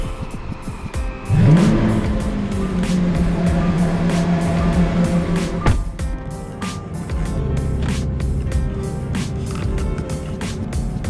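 Lamborghini Aventador SV engine firing up with a loud burst, settling into a rumbling idle, then a couple of sharp revs, close and strong over a ticking background.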